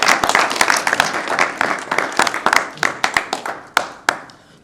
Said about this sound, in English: give our board representative, our president, a round of applause